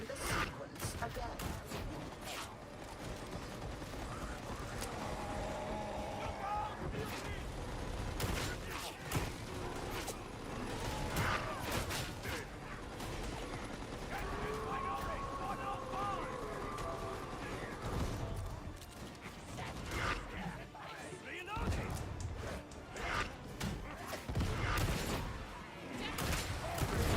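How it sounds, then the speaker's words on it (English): Dense video game gunfire with heads being shot and backpacks rupturing, bursts and thuds layered over a busy mechanical soundtrack, loud and continuous throughout with no clear gaps. "I'm shooting them in the head."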